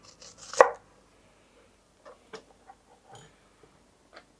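A knife chops raw red onion on a cutting board in a home kitchen. One loud crisp chop is followed by several lighter, irregular taps and knocks, close and dry, with no talking.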